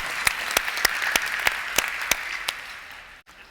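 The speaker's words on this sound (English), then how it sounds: "how about a round of applause for Keith and Michelle and the whole crew at Paleo Effects for putting this together." A conference audience applauds a talk in a dense, even wash of clapping with a few sharper individual claps, fading quickly at the end.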